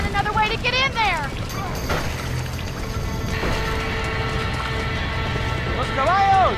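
Horses running with rapid hoofbeats amid shouting voices in English and Spanish during a fire in a video game, a horse whinny at the start and end, and crackling background noise.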